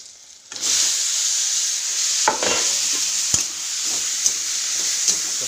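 Mushrooms fry in a pan with masala powder, a loud continuous sizzle starting suddenly, broken by occasional knocks and scrapes as a spoon stirs them.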